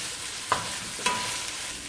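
Grated ginger stirred in a hot pan while cooking chicken curry, giving a steady soft sizzle broken by two brief scraping clicks of the utensil, close and moderately loud.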